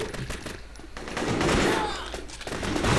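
Gunfire in a video game, a dense rumbling barrage of shots and thuds that swells and stays loud throughout, with voices talking over it.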